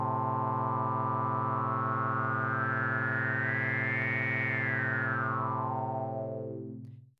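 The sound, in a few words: MicroMonsta resonant saw waveform with wave shaping, filter-like sweep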